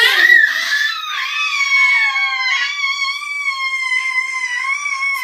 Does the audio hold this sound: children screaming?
yes